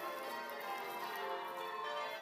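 Church bells rung by a band of bell ringers practising a peal, a steady wash of overlapping ringing tones heard at a distance, faint and continuous.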